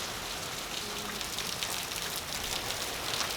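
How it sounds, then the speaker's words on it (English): Steady rain falling in Charleston, a dense, even hiss of drops striking surfaces, loud and constant throughout with no voices. "Little southern rain."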